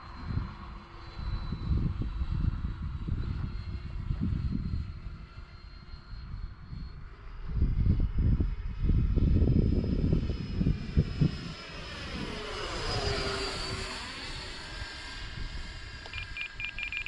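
A customized FMS F-18F Super Hornet RC model jet flies past with a continuous ducted-fan whine, surging louder in the middle with a pitch-shifting flyby, then fading, with a few faint beeps near the end.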